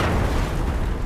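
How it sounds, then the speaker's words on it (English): Combustible dust explosion, a furnace fireball igniting airborne dust in a second, larger blast inside an industrial building: a dense, low, rumbling roar that stays loud and sustained throughout, with no voices. "a fireball erupted from the furnace, engulfing the area and igniting airborne dust in a second, larger explosion."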